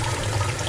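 Water running over a tie-dyed shirt being rinsed out, a brief steady splashing wash heard up close with no voices.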